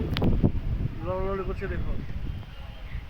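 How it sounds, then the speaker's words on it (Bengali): Strong storm wind gusts around trees, a steady low rumble buffeting the microphone throughout while a person talks over it. "বাতাসে কেমন হাওয়া দিচ্ছে দেখো"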